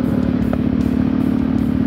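An Italjet Dragster scooter engine, compared to an X-Max, runs at a steady loud idle close by, with an even low throbbing hum and faint mechanical ticking on top.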